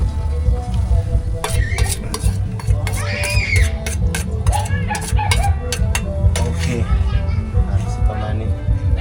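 Garlic fries in a pan in a home kitchen, with a steady low sizzle and bubbling running throughout, mixed with stirring and utensil clatter while people talk over it.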